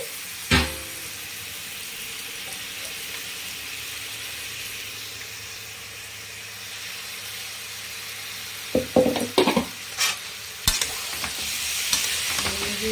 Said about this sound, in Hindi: लहसुन अदरक और टमाटर का पेस्ट है. इसे कब तक फ्राई करूंगी तो इस कच्चापन का स्मेल नहीं चला जाए.